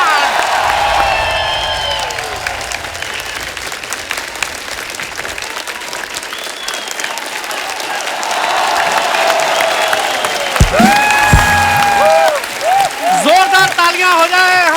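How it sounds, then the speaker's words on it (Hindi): A studio audience at a comedy talk show applauds and cheers loudly for arriving celebrity guests, with sustained clapping and whoops under a host's voice and music. "जोरदार तालियां हो जाए हमारे मेहमानों के लिए।"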